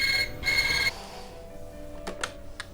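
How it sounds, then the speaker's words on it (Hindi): A telephone rings in a Pakistani drama scene: two quick bright ring bursts in a double-ring pattern, then faint clicks and small handling noises as the line goes quiet. "ओह नताशा, तुमने फ़ोन किया था?"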